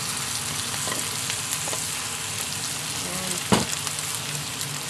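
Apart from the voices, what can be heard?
tofu sisig frying and being stirred in a pan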